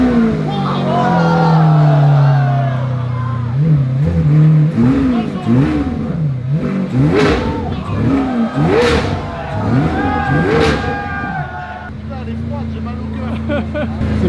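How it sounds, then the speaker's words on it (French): A cold Lamborghini Aventador SV V12 starts with a loud rumbling idle, then gets a few sharp blips of throttle whose pitch rises and falls before it settles back to idle. "Carlos, on va allumer la Ventador SV. On va mettre deux petits coups de gaz"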